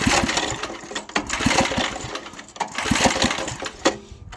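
A small rototiller engine is pulled and fires without choke, giving a rough, continuous mechanical chatter with rhythmic knocking pulses, close and loud throughout.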